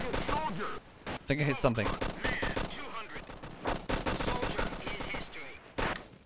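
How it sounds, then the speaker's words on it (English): Bursts of machine gun fire crackle through a combat firefight in the video game Operation Flashpoint: Cold War Crisis, sharp repeated volleys overlapping with loud excited talk from a player. "Machine gun fire from inside the town."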